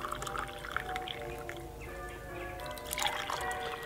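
Herbal tea pours from a pot with a pushed-down lid into a cup, a soft, gurgling trickle with rising, filling tones that grows brighter near the end, quiet and close.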